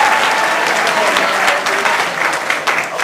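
A crowd at an open house event claps in a dense, steady burst of applause, loud and continuous for a few seconds with no one speaking over it.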